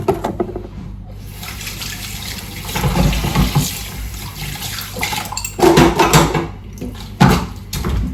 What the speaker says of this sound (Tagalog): Hugasan ko na yung kamay ko